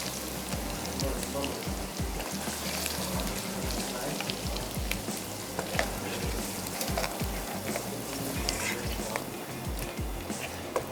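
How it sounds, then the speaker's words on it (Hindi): Yogurt sizzles and spatters as it is stirred into fried spices in a hot pan on a turned-down stove, a continuous close crackle with the scrape and slosh of mixing throughout. "स्टोव को कर लेते हैं थोड़ा सा बंद और दही ऐड करके अच्छा सा मिक्स कर लेते हैं"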